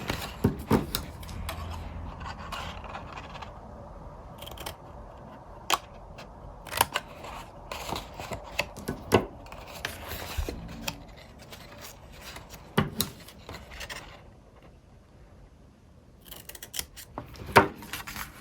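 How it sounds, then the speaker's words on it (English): Scissors snip halfway into cardstock tabs for a box, with short crisp cuts repeated in irregular clusters and quiet paper handling between them, all close and moderately loud. "go through all of the tabs and cut it halfway only"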